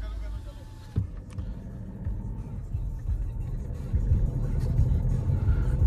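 A Jeep Compass and an XUV500 accelerating in a drag race, heard as low engine rumble and road noise building steadily from inside a vehicle, with a brief knock early on and people talking over it.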